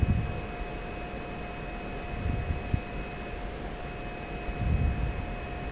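Fixed-wing aircraft engine roaring steadily during a takeoff roll in the DCS flight simulator game, a dense continuous broadband drone with a constant tonal whine and slight swells in loudness.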